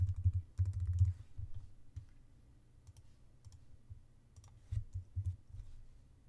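Computer keyboard typing while a vector badge is built in Illustrator: close, soft key clicks arrive in short clusters with pauses between them, and no one speaks.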